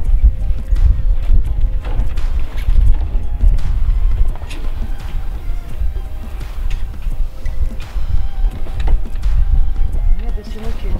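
Loud wind buffets the microphone aboard a sailboat, a heavy low rumble with gusty bursts and some rattling of rigging, continuous throughout.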